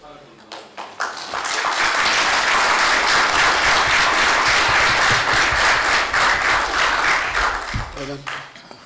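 Sustained applause from a committee meeting audience, a dense roll of clapping that builds quickly, holds steady for several seconds, then tapers off with a few scattered claps.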